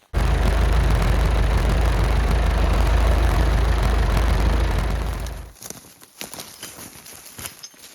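A tractor's engine runs loud and steady up close during repositioning on a logging job, then cuts off abruptly, leaving quiet scattered clicks and knocks.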